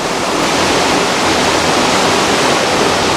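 A steady, dense roar of a big waterfall in New Zealand, heard from a cruise ship, fills the scene, loud and unbroken throughout, with no voices.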